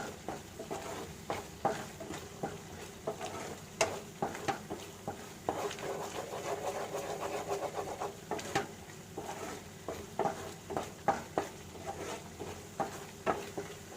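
Paneer mutter masala curry stirred in a pan as it thickens and releases oil, with a steady run of soft scraping taps and gentle sizzling over about fourteen seconds, close up and moderately loud.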